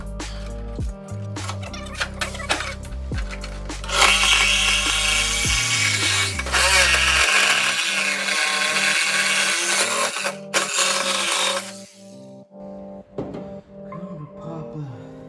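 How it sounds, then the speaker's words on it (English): Sawzall reciprocating saw cutting the shock towers on a 1963 Ford Falcon, a loud, harsh metallic buzzing and rasping in uneven bursts, with heavy low rumble early on and stops and restarts toward the end. "Now I'm gonna try the sawzall and see if I can get the rest of the stuff"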